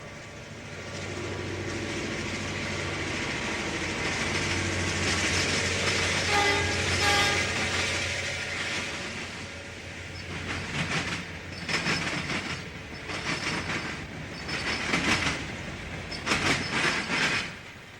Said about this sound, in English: train SC1 passes the Romulus Tower and Depot